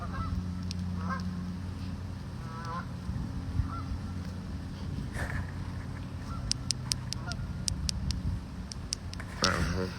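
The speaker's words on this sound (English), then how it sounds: "listen to the geese" Geese honk repeatedly, some near and some farther off, over a low background hum. A voice talks partway through, and sharp clicks come toward the end.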